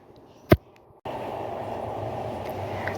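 The Madhumati Express, running from Dhaka to Rajshahi by way of the Padma Bridge, begins with a single sharp knock, then a steady, loud rolling rumble of the train that carries on to the end.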